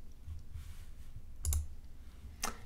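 Two crisp mouse clicks on a web page link, spaced about a second apart, close and fairly quiet over a faint low hum.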